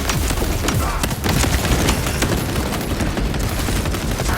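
Servo gun firing nonstop in the video game Warhammer 40000: Space Marine 2, a loud, dense stream of rapid shots filling the whole stretch with little pause.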